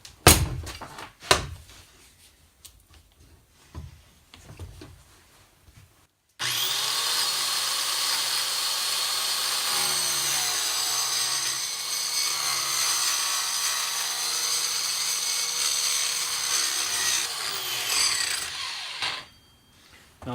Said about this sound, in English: so now we can cut them with the roto razor